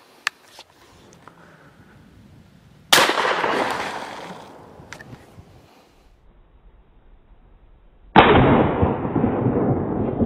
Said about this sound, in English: let's go ahead and shoot this thing and see what that body armor does.